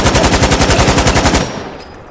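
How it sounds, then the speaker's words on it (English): Laser weapon hip-fired in Fallout 4 VR, a rapid string of about fifteen loud, evenly spaced zapping shots that stop abruptly and leave a fading tail. "it's sometimes easier to just hip fire it, you know, with the laser"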